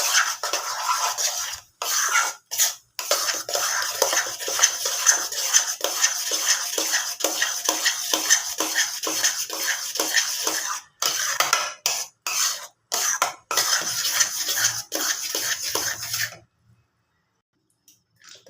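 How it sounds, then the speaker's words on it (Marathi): A spoon scraping and clinking in a steel bowl as suji idli batter is stirred with baking soda and water, busy repeated clinks and scrapes that stop near the end into silence. "आणि याला चांगलं मिक्स करून घ्यायचं."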